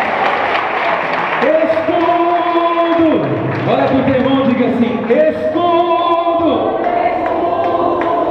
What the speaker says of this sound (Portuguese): Aplauda, exalta, meu irmão